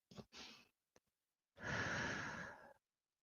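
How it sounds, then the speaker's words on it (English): A deep chest breath: a couple of short sniffs and a quick catch of air, then one long, loud exhale lasting over a second, close and clear in a quiet room. "I want you to take a deep breath, a big chest breath"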